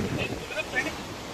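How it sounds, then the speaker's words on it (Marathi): Ocean waves washing onto Hallewadi beach, heard as a broad windy surf rush with wind buffeting the microphone and faint voices in the background. "हल्लेवाडी बीच."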